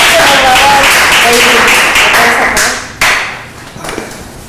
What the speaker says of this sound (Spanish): un aplauso para nuestro participante.